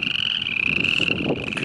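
Tiny half-inch frogs emerging in springtime around flooded irrigation canals, calling in a continuous fast trilling chorus, close and clear with a steady high pulsing buzz and no voices.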